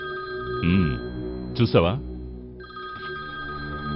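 Telephone bell rings in two short bursts, loud and close, in a tense film scene, with a voice speaking briefly between and over the rings.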